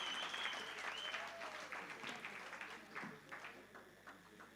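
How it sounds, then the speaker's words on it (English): Graduates at a colloquium ceremony applauding themselves, a moderate room-filling patter of many hands that gradually fades, heard at low level. "And clap hands to yourselves."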